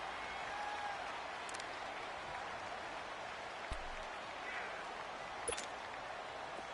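Stadium crowd noise fills a video game American football match: a broad, distant roar of cheering and clapping with a few sharp knocks and clicks standing out briefly.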